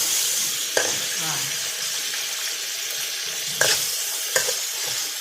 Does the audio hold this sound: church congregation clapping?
no